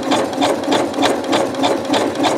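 A sewing machine runs a long stitch over rope for a rope bowl, with fast, evenly spaced rhythmic thumps of the needle, close and clear.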